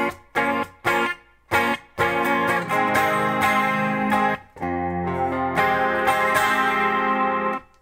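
Guitar chords for a song strummed in short choppy bursts at first, then in longer ringing sustained strums, close and bright with an effected, slightly chorused tone.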